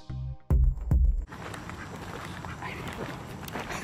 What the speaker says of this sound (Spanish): El pato nos está siguiendo